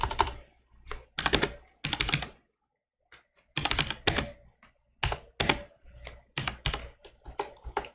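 Fingers typing code on a computer keyboard, in quick clattering bursts of keystrokes separated by short pauses, close and clear with no talking.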